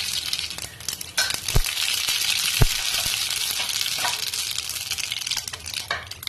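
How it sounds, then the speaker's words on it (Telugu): Mustard seeds splutter in hot oil in a pan, a dense crackling sizzle with scattered sharp pops and occasional spoon scrapes, close and moderately loud, with no talking. "ఆవాలు చిట్టుపట్లాడి పచ్చిమిర్చి వేసేస్తాము"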